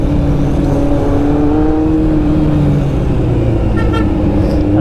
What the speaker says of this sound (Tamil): எனக்கே ரொம்ப எக்ஸைட்டடாக இருக்குது ஹார்ன் எப்படி இருக்குது கேட்குறதுக்கு.